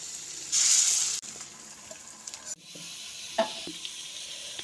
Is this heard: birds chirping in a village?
no